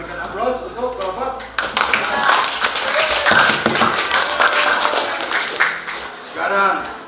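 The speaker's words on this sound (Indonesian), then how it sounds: "kita berikan aplaus untuk kelompok" A classroom gives a student group a round of applause, with brisk clapping building after a teacher speaks and running for several seconds before voices return near the end.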